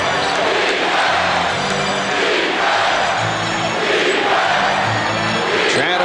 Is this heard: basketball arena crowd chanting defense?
yes